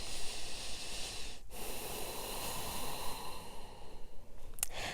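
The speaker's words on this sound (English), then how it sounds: "couple of breaths here." Slow, audible breaths taken while holding a yoga pose during a slow flow class, a steady airy hiss of inhaling and exhaling close by with a brief snort-like catch near the end and no talking.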